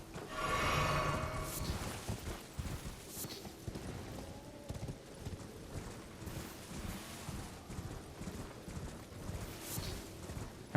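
Irregular hoof clops patter along steadily at moderate volume, with scattered clatter and thuds throughout. A horse in the video game Elden Ring.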